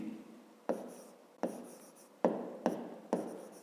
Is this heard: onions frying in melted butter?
no